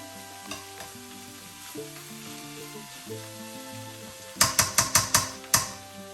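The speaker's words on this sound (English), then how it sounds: "You really want to be able to use a metal pan and a metal spatula for this if you can, because I feel like it makes it brown better than a non-stick" Metal spatula scraping and stirring cauliflower rice with bacon in a metal pan, a soft sizzle throughout, ending in a quick run of five or six loud, sharp scrapes near the close.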